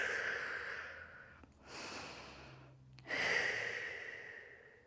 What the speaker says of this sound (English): Deep breaths out your mouth.